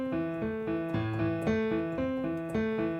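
Piano playing a short repeating note pattern starting from A, a few evenly spaced notes over a low sustained bass, clear and close with no voices.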